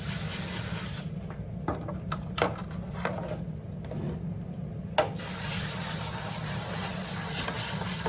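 Buttery-flavor cooking spray hissing from an aerosol can in a home kitchen while a cake is prepared: a steady spray that is interrupted by a few short bursts and small knocks, then resumes as one continuous hiss.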